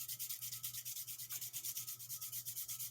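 Sandpaper grinds a stick of charcoal into powder, with quick, even back-and-forth scraping strokes in a steady rhythm, close and clear with nothing else audible.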